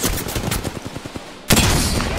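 Rapid video game gunfire crackles in bursts, then a dense loud burst of shooting starts abruptly near the end, with no speech over it.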